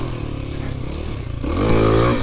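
A Kawasaki KLX300 dual sport motorcycle on new Tusk DSport tires revs hard for a wheelie, its engine note climbing steadily and growing louder up close.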